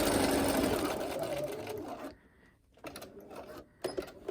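A sewing machine stitches around the corner of a fabric face mask with a filter pocket, running loud and steady for about two seconds, then pausing and restarting in short bursts.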